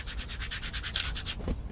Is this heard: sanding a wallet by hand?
yes